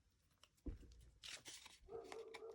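A dog gives a single sharp, close bark indoors, followed by soft rustling and a faint whine against a quiet room.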